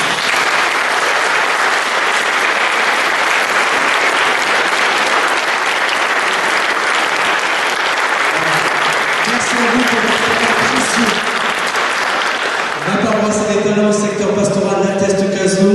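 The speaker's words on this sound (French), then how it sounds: "Est-ce qu'on peut les applaudir ?" A parish audience applauds volunteers at a talent event, sustained loud clapping filling the room throughout, with music or voices rising under the applause toward the end.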